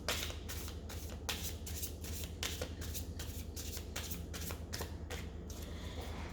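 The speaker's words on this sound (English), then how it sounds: "So after shuffling the cards, I think quite a lot, let's start by clearing the deck." Playing cards shuffled by hand during a tarot-style reading, a close, continuous riffling and rustling with repeated sharp bursts, no talking.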